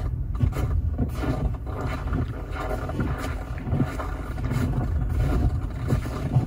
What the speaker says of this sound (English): That would be Snowy Village. What exactly does a snowy village sound like?